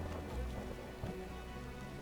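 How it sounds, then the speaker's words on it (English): Steady, heavy rain pours down in a dense hiss of drops, fairly faint and continuous, in the video game The Witcher. "A real downpour."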